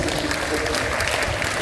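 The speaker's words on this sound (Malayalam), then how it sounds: "അതിനൊരു വലിയ കൈയടി ഞാൻ എല്ലാവർക്കും" An audience claps steadily during an inaugural address, a dense, continuous patter of hands, with a voice talking over it.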